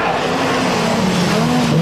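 Division 2 rallycross car with a turbocharged four-wheel-drive engine of over 700 horsepower, racing in the 1993 French rallycross championship; a loud, steady engine drone that holds near and constant, with a faint hint of tire noise and no clear speech.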